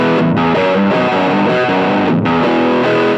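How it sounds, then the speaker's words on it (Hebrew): Electric guitar played through a distortion circuit built on diodes, loud and saturated, with a steady stream of overdriven chords and notes and no pauses. "יש סוג אחד של צליל בגיטרה חשמלית שלגביו יש הכי הרבה מיתוסים, וזה הדיסטורשן."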